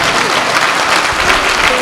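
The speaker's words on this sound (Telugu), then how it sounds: "మనం అందరము ఒకసారి గట్టిగా చప్పట్లతో అభినందనలు తెలుసుకోవాలి" Loud, close applause from a gathered audience at a pyramid meditation centre in Peravaram, thick continuous clapping through the whole stretch.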